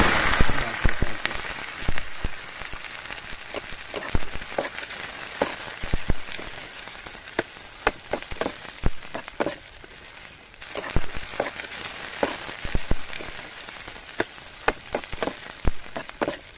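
Onions frying in a pan for Kerala-style beef biryani: a steady, close hiss with sharp sputtering pops scattered irregularly throughout.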